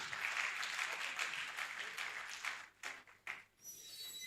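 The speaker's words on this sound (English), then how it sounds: "Let's give a round of applause." An audience applauds at a conference, a dense, steady round of clapping that continues for a couple of seconds, then thins into a few scattered claps and dies away.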